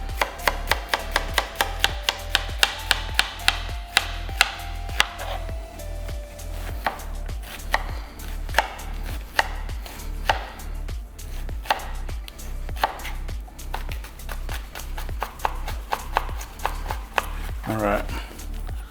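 Rapid, steady knife chopping on a cutting board while dicing vegetables for stuffed sweet bell peppers, dense rhythmic close strikes throughout, briefly pausing near the end.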